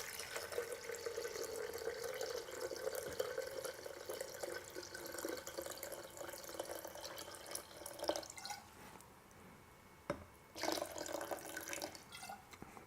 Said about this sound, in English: So I'm going to pour this cold water in here.